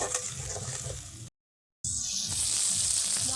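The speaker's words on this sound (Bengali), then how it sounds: "এবার কয়েক মিনিটের জন্য মশলাটা কষিয়ে নেব" Spice paste frying in oil in a pan for a Bengali rasgulla curry, a steady close sizzle with a brief silent gap midway, then a brighter crackling hiss.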